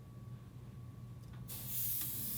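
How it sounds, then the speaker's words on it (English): A sprayer mists cryogenic activator onto a hair scalp during a facial treatment, a steady hiss that starts abruptly and carries on at a fairly even level over a low machine hum. "Make sure you turn on the cut button to blue color when you're using the sprayer with the cryogenic activator."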